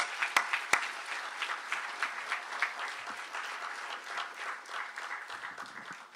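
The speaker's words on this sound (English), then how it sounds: "Please join me in another round of applause for Dr." An audience at a public health award ceremony applauds with a sustained round of clapping, dense and fairly even, with a couple of sharp individual claps near the start and the clapping thinning out toward the end.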